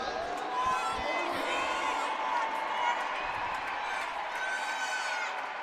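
An energetic crowd at the 2017 FIG Artistic Gymnastics World Championships men's qualifiers fills a big arena with steady cheering and whoops, a dense roar holding level throughout.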